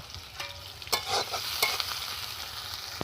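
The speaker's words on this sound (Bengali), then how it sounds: "পেঁয়াজ আর টমেটম ভালো করে আমি ভালো করে ভেজে নেব" Chopped onion and tomato fry in a pan, a soft continuous sizzle broken by a few brighter scraping stirs of a spatula, close and unaccompanied by talk.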